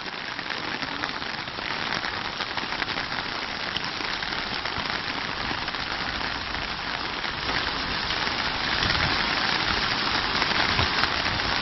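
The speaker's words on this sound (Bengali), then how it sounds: "ওই দেখ কি বৃষ্টি রে ভাই।" Heavy rain pours steadily in Riyadh, Saudi Arabia, a dense continuous patter on surfaces that swells slightly toward the end, with no voices.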